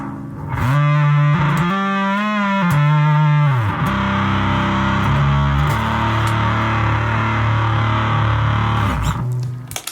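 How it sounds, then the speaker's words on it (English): A bass guitar pushed through a thick fuzz pedal on a Warwick Rockboard pedalboard, loud and saturated, with a few sliding riffs early on, then long sustained buzzing low notes. "It's an absolutely awesome sounding fuzz pedal."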